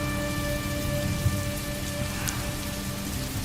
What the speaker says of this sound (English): This rain was coming down like a warden who woke up in a bad mood.